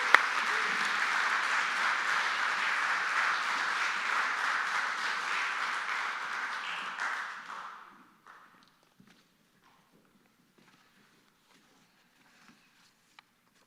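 A lecture audience claps steadily in a hall for about seven seconds to welcome the introducer of a climate crisis and international relations lecture, the dense applause fading out into near silence with a few faint shuffles.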